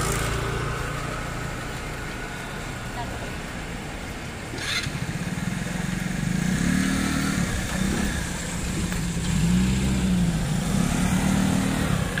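A motorcycle engine runs at a Saturday night market in Taiwan, a steady low drone that swells twice into louder, rising revs, with crowd noise around it.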